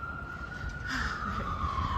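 An ambulance siren wails on a New York City street on the Upper West Side, a steady high tone sliding slightly downward as it passes at moderate distance over city traffic rumble.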